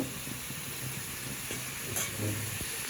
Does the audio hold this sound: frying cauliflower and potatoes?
yes